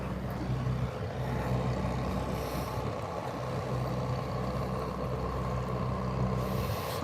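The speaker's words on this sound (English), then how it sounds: "some lorries over there make a lot of noise" Lorries driving nearby, a continuous low diesel engine drone with steady rumble and some faint hissing, moderately loud and constant throughout, with no talking.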